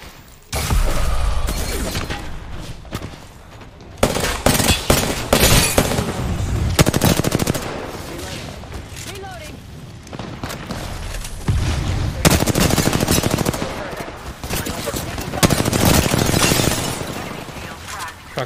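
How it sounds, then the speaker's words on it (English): Close, loud machine-gun bursts from a first-person shooter video game come in clusters separated by brief pauses, with crackling impacts between volleys. "Taking fire."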